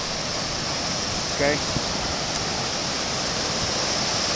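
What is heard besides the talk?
rushing water of the upper Rogue River at Natural Bridge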